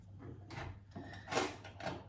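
A wooden drawer in a home kitchen slides open and shut in a few quick scraping bursts with soft knocks, close by and moderately quiet, with no talking.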